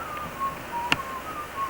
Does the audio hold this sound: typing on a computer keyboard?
no